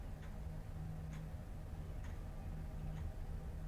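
A clock ticks steadily in a quiet indoor room, each soft tick evenly spaced about once per second over a low background hum, with no voices.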